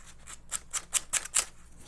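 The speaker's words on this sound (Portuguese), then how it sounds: "eu pego uma lixinha de unha, ó, dou uma lixadinha" Short strokes of a nail file sanding small burrs off an edge cut with scissors, a series of about eight soft rasping swipes, growing louder toward the middle, close up with no talk.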